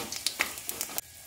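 Panch phoron spices crackle in hot oil left from frying fish, a short burst of sharp pops and sizzles that stops abruptly near the end.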